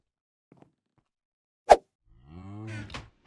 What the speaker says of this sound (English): We've actually 3 big cows now, so it grew.